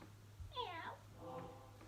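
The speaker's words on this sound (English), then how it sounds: "It was a smaller orange cat." An orange cat meows in one drawn-out, wavering call, followed by a softer, lower second call, close and moderately loud over a faint steady hum.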